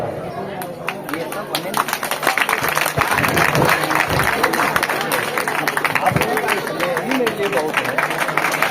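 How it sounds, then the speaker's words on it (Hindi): Audience applause at a Ramlila opening ceremony, sustained clapping from a large crowd that swells and holds steady for several seconds, with a speaker's voice over it at times. "जोरदार तालियां।"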